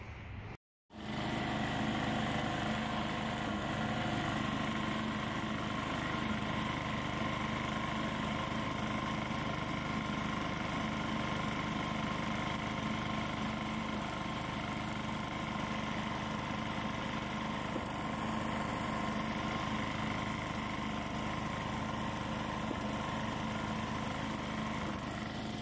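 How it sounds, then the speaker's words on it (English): A lawn mower engine runs steadily and loudly at close range through a residential lawn mowing, a continuous drone with no talk. "All right, guys, we're going to mow."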